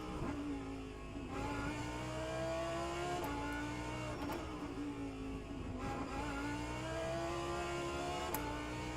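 The engine of a GT3 race car at the Long Beach street circuit in rFactor 2 drones steadily, with its pitch climbing and dropping through gear changes and a few sharp clicks over continuous road and engine noise.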